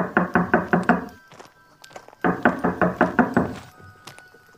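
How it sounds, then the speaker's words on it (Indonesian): Two bursts of rapid knocking on the wooden door of a simple stilt house with old timber walls, about six firm raps each separated by a pause, close and clear with no talk. "Perlahan aku mengetuk pintu."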